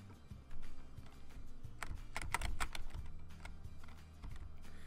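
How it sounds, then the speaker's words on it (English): Fast, irregular computer keyboard typing during a video game, a stream of sharp key clicks that bunches into a dense flurry partway through, heard alone with no talk. "my keyboard was just stuck on W, and it was hitting all the way to the left"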